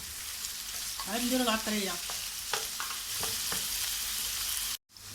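Kefta meatballs sizzling in a pan with onion, steady frying hiss with stirring underneath while a person talks over it.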